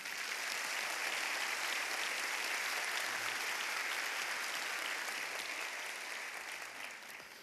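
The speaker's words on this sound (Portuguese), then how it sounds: "Uma salva de palmas novamente." Theatre audience applauding at a university lecture event, a dense sustained wash of clapping throughout that holds steady, then tapers slightly near the end.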